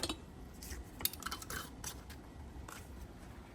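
A hot, freshly boiled metal lid is twisted tight onto a canning jar of homemade sauerkraut, the hand wrapped in a rag; faint metallic clicks and light scraping come in scattered bursts with no talking.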